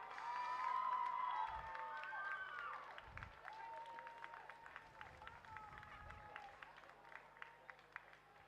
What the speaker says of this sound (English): Ladies and gentlemen, a big round of applause for our winners and medalists in the Schoolgirl Year 8 Quad Scull